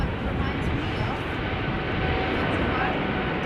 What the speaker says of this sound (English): KLM Flight 515 to Zanzibar. 777-300 is taking off from runway 18 left.